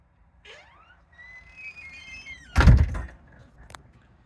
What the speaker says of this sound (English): I'll shut my door.